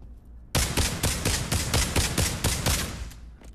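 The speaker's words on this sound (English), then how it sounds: "next up we have the SKS" Rapid series of about a dozen loud, sharp SKS rifle gunshots from the video game Pavlov, fired in quick even succession after a brief quiet start, each crack ringing into the next with no talking.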